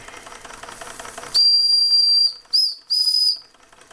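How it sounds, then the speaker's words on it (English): A Bing model 130 toy steam engine from around 1909, on a tile and wood base, sounds its steam whistle: a loud, steady one-second shriek with a hiss, then two shorter blasts close together. "the steam blows out of the whistle in the wrong spot"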